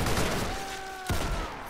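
Gunfire in the Roblox video game, a rapid burst of shots that cuts off, then a single sharp shot near the end, loud and close against steady game noise.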